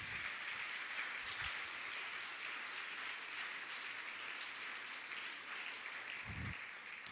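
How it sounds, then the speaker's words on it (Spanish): A church congregation applauds together in a sustained, even wash of clapping that carries on without a break, heard from a moderate distance in a large room. "Denle un gran aplauso al Señor."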